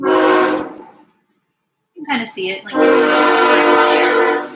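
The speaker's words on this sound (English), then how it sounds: "So if you hear a really loud horn, just now that's the train." A loud freight train horn blares from a railroad behind a house in two long sustained blasts, with a pause between them and a person speaking briefly in the gap.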